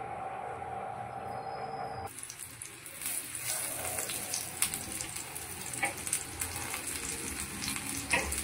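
Semolina-coated tuna fish pieces frying in hot oil on a tawa, a sudden loud sizzle bursting in as the fish hits the pan, then a steady crackling hiss with small pops close by.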